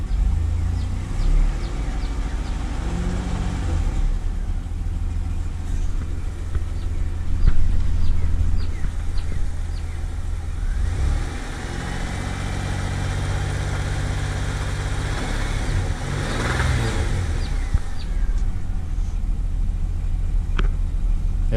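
A 3.8L engine in a fourth-generation Camaro idles steadily after an oil leak repair, with a constant low rumble close by and no talk over it.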